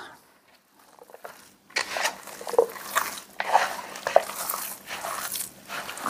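Ground meat and feta are mixed by hand in a bowl, making soft wet squelches and squishes that start after a quiet moment and go on unevenly up close.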